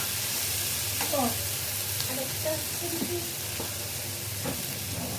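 Spice masala sizzles steadily in a pan for a Bengali-style beef tripe bhuna, a constant broadband hiss with a few scrapes and soft clinks of stirring over a low hum.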